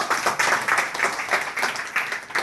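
Hands clap again and again inside a stone-built temple with carved pillars near Markapuram, a steady run of about eight sharp, bright claps with a ringing, reverberant edge.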